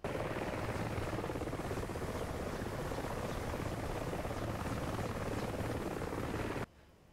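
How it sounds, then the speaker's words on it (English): Helicopter rotor and turbine roar in DCS World as the chopper comes in, a steady loud whirring drone with faint rhythmic blade chop that holds throughout and then cuts off abruptly at the end. "If the helicopter's coming in, and I think that is him there."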